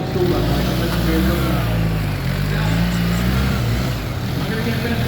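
A BMW GS adventure motorcycle engine revs steadily while the bike spins donuts at an off-road demo, a loud continuous mid-pitched drone rising and falling, with voices talking over it.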